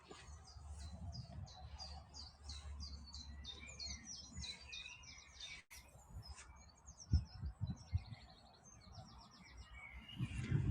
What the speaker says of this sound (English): That two-note chiff-chaff call.